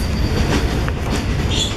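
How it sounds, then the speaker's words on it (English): The Nairobi to Mombasa overnight sleeper train rumbling along the rails up close, with a steady low roar, faint wheel squeal and occasional clacks from the carriages. "This is the Nairobi to Mombasa first class overnight sleeper."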